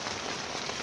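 Steady rain falling outdoors in bad weather during an outdoor cookout with meat, a dense continuous patter with no voices.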